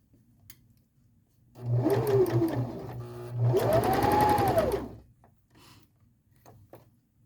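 A home sewing machine stitching on its flatbed runs in two bursts of about one and a half seconds each, a close, steady whirring hum with a brief pause between them and quiet handling before and after.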